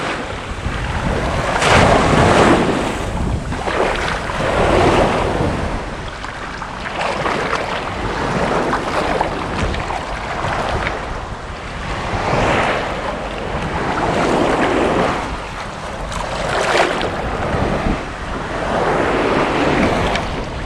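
Sea waves roll onto a beach in repeated loud surges under steady wind buffeting the microphone, with no voices heard.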